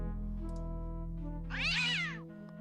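One clear, drawn-out meow from a cartoon cat in the adventure game Day of the Tentacle Remastered, rising and falling over a sustained background music drone.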